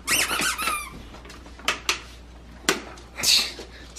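A squeaky dog toy being squeezed, opening with several rapid high squeaks followed by scattered sharper squeaks and a longer final squeal, close and fairly loud in a quiet room at a Christmas gift opening.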